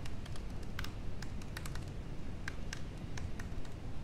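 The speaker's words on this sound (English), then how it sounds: "I just have to type Autocannon and reference the URL." Keys on a computer keyboard tapped in short bursts to enter a terminal command, close and moderately loud over a steady low hum, with irregular clicks and pauses and no voices.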